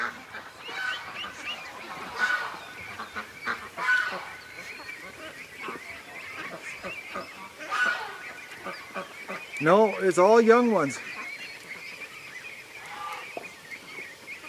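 A homecoming flock of ducks, young ones and adults, calls in a yard at night with honks and quacks that swell into a loud cluster near the end, while a person talks throughout.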